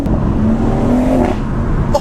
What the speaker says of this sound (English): you can just hear engine noise, like actual car sound